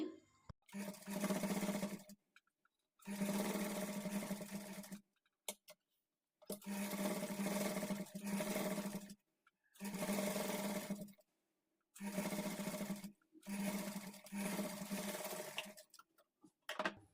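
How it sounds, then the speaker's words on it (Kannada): A sewing machine stitches blouse lining in six bursts of fast, steady whirring of a few seconds each, separated by short silent pauses as the fabric is turned, close and clear with no voices. "ಈ ಮೂಲೆಗಳಲ್ಲಿ ನೀಡಲನ್ನು ಇಳಿಸ್ಕೊಂಡು ಈ ಥರ ತಿರುಗಿಸ್ಕೊಂಡು ಸ್ಟಿಚ್ ಮಾಡ್ಕೊಳ್ಳಿ"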